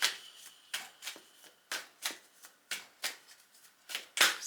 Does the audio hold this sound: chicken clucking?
no